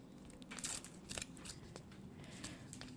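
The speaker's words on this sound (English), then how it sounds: "I'm just going to peel the backings off." Backing strips are peeled off mounting foam up close, a series of quiet crackling, tearing rasps in irregular bursts with no talking.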